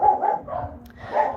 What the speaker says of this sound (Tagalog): Pasensya kayo sa ingay ng aso